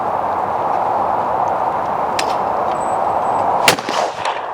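A Browning XS shotgun fires once at a clay target outdoors. The single sharp, loud report comes late, after a stretch of steady background noise, and is followed by a brief echoing tail.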